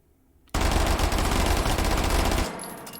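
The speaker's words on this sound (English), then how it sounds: "32 rounds of 9mm. Here we go. Full auto is the only option." A TEC-9 in the VR game H3VR fires 9mm on full auto: one loud, unbroken rattling burst of about two seconds that empties a 32-round magazine, then cuts off into faint clatter.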